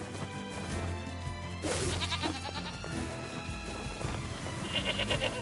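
Sheep bleat in the video game Nier Replicant, several wavering calls spread over a continuous game soundtrack, with a louder cluster near the end.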